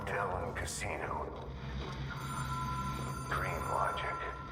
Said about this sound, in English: the hotline seems to be ringing for me